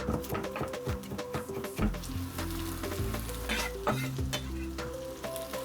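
Softened vegetables and chopped banana peppers frying in a pan, a steady close sizzle with scattered crackles and utensil clinks, no talk.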